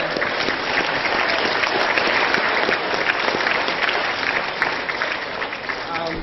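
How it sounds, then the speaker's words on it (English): Sustained applause from a wedding reception crowd for the bridesmaids, dense steady clapping at a constant loud level throughout, with voices murmuring underneath. "Can we just give applause to the bridesmaids?"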